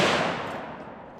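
A single sharp report from a KUSA KR-103SF AK-pattern rifle fed from an Arsenal magazine, loud at the start and decaying quickly into a brief outdoor echo.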